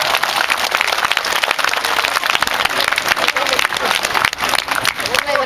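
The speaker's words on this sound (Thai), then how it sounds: "ขอพวกเราได้ ปรบมือเป็นกำลังใจแก่พี่ๆทุกคนครับ" An audience applauding at a Thai school event, with loud, close and dense clapping throughout and voices cheering and talking within it.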